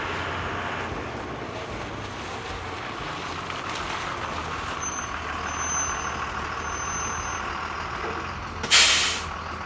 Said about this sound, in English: Here comes the school bus.